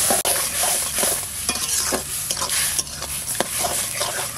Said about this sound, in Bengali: অল্প সামান্য তেল দিলাম, একটু জিরে ফোড়ন দিচ্ছি